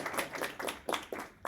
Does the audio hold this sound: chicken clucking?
no